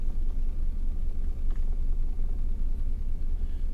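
A CSX freight train rumbles past at close range in Chester, Massachusetts, a steady heavy low-frequency roar with faint rattling throughout and no talk.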